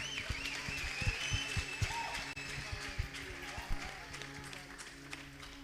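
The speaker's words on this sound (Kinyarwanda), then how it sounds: "Ndagira ngo tubanze dukomere umuyobozi wa gahunda amashyi." A church congregation applauds the programme leader, steady crowd clapping at moderate distance with voices mixed in throughout.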